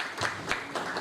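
An audience at an international conference on pedestrian spaces gives a round of applause to welcome panelists to the dais: dense, steady clapping throughout, fairly close, with no clear talk over it.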